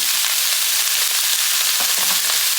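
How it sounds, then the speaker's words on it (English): Vegetables tossed with Italian seasoning (oregano, marjoram, basil, rosemary, thyme, savory) sauté in a pan for a vegetable lasagna, giving a steady, close hiss of frying with a few soft stirring scrapes, no voices. "just mix this up again and just let it saute"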